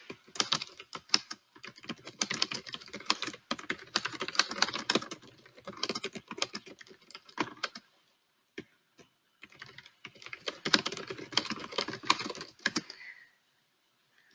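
Rapid clicking keystrokes come from a computer keyboard as a message is typed, in quick bursts with a pause of about two seconds before the typing resumes and then stops.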